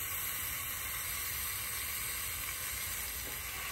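A pressed smash-burger patty sizzling on a Blackstone portable griddle, giving a steady, even hiss that holds unbroken throughout, close and fairly quiet with no voices.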